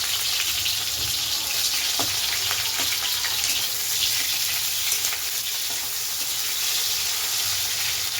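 Chopped onion and tomato fry hard in hot oil over a tempering of cumin seeds and bay leaf, with a loud, steady, close sizzle and a few faint clinks of stirring.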